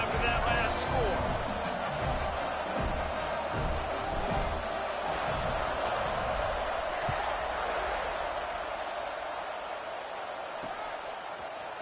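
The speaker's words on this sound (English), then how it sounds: "this crowd is buzzing after that last score" Football stadium crowd at a college game between Washington and South Carolina, a steady dense murmur of many voices buzzing after a touchdown, with a commentator talking over it throughout.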